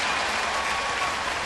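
A large baseball stadium crowd of about 44,000 applauds a base hit, a dense, loud, steady wash of clapping and cheering without a break.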